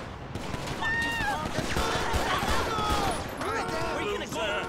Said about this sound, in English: this guy decided to start shooting